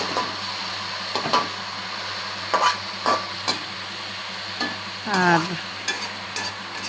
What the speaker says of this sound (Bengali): আজকে রান্না করেছি ডাঁটা শাক ভাজি, অলরেডি বসিয়ে দিয়েছি।